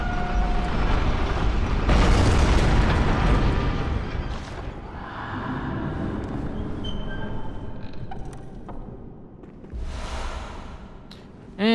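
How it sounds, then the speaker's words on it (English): A heavy church cannon fires in Bloodborne, a loud broadband blast around two seconds that rumbles and decays, followed by quieter game ambience and a second burst near the end. "And it's the church cannon."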